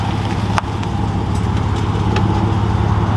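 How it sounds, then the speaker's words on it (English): A 2020 Dodge Charger Scat Pack idles with carbon exhaust tips fitted, giving a deep, steady, loud rumble up close, with a couple of faint clicks over the constant low throb. "This car sounds so good."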